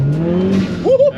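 Brief burst from a Mercedes car on the road: engine tone climbs, then a sharp rising squeal of tire wheelspin cuts in near the end, loud and close.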